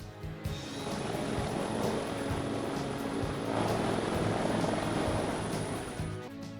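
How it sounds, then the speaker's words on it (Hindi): Chief Minister Vishnu Deo Sai's helicopter comes down at the remote village of Balda Kachhar in Baloda Bazar-Bhatapara, its rotor beating a steady, loud thrum that swells and then eases off, with no voices. "मुख्यमंत्री विष्णुदेव साय का हेलीकॉप्टर सीधे बलौदाबाजार भाटापारा के सुदूर गांव बलदा कछार में उतरा"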